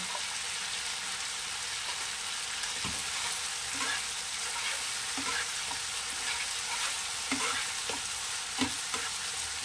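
Spiced masala with ground mustard paste and softened tomato frying in a pan for a Bengali bhola fish jhal, a steady close sizzle broken by occasional soft scrapes and stirs.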